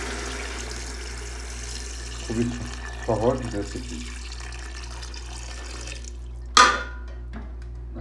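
Water is poured into a pot holding 1.5 kg of chicken pieces for Arabian chicken kabsa, making a few brief splashing bursts and a short sharp gush near the end, with a person speaking over part of it.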